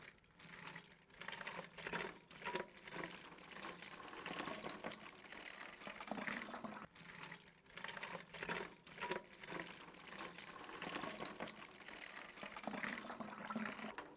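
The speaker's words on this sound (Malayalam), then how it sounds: "കുപ്പിയിലേക്ക് ഞാൻ ഈ മഷി ചേർത്ത വെള്ളത്തെ ഇതിലേക്ക് ഒഴിക്കുകയാണ്" Water tinted with ink is poured into a bottle, giving a continuous liquid gurgle and splash that rises and falls in repeated bursts, fairly close and with no talking.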